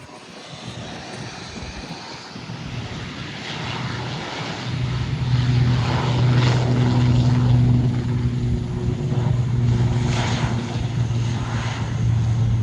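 An InterCaribbean ATR turboprop rolls down the runway at San Juan for takeoff, its propeller engines building from a moderate rumble to a loud, steady droning roar with a pronounced low hum.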